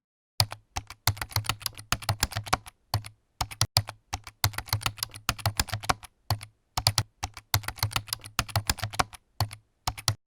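Rapid bursts of keystrokes on a computer keyboard as code is typed, clicking in quick uneven runs with short pauses between them, close and clear with no talking.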